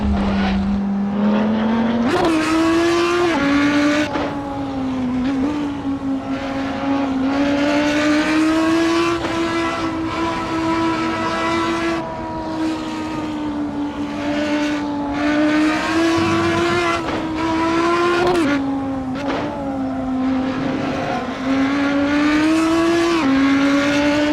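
A race car in the Assetto Corsa sim screams at high revs throughout, its engine tone sliding through gear shifts and brief lifts over a long continuous run, loud and close with no talking.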